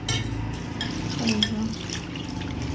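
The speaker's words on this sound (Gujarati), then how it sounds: "તો પહેલાં આપણે 2 થી 3 પાણીએ ધોઈ લઈશું." Soaked chana dal is rinsed in water: close, brief sloshing and splashing of liquid and lentils, heard on its own.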